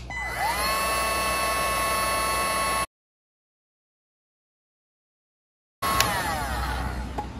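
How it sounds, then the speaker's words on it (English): A Craftsman heat gun heat-seals the end of a rope for a ceiling door pull, giving a steady whining blower hum that runs about three seconds, drops out to silence, then returns with a faint click. "I'm going to heat seal it with my Craftsman heat gun"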